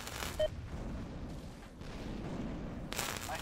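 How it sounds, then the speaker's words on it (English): Range cannon fire in the Empires Source mod game, a deep muffled boom and rumble with a short sharp report near the start and another burst toward the end, over constant low battlefield noise. "They're sniping with the range cannon."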